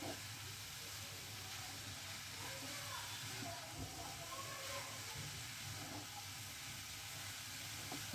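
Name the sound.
frying grated carrots for gajar halwa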